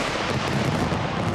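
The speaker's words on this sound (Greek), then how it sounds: "Η περίφημη όπερα του Σίδνεϊ φωταγωγήθηκε από χιλιάδες πυροτεχνήματα" New Year fireworks bursting over Sydney Opera House in Australia, a dense, continuous rumble of overlapping booms and crackles that fills the whole moment without any clear gaps.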